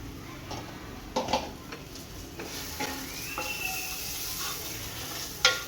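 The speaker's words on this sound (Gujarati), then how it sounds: "મસાલો શેકાઈ જાય, આદુ મરચાં બધું ચડી જાય ત્યાં સુધી શેકી લેવાનું" Masala with ginger and chilies roasts in a pan for vada pav filling, a low steady sizzle broken by several clicking spoon strokes against the pan, close and fairly quiet with no voices.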